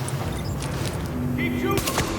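Gunfire crackles amid a busy urban firefight in The Division, a few sharp shots over a dense layer of game noise and a brief tonal alert.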